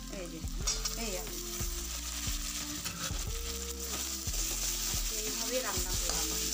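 Small potatoes fry in oil with cumin and dried red chillies, a close, steady sizzle with repeated scraping knocks of a spatula against the pan at a slow, regular rhythm, with no voices.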